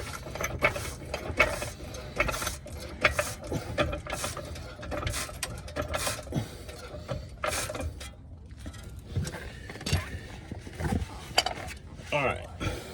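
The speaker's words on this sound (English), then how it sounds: "I'm gonna come down on my jack from over here. I'm gonna come up and I'm gonna push up on this side." A car jack being raised against a suspension arm on a Ford Explorer ST, giving a steady stream of quiet metallic ratcheting clicks and clanks with faint background noise throughout.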